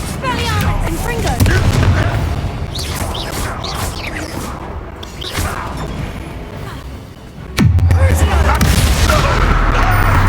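Confringo blasting-spell explosions in Hogwarts Legacy, with repeated loud booms and crashes amid combat noise and voices, and a heavy blast striking near the end.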